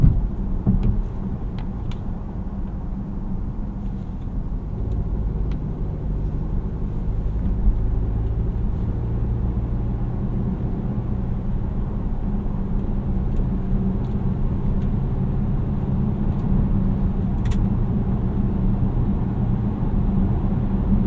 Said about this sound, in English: when you put your foot down on the gas, it needs to spool up and then you go.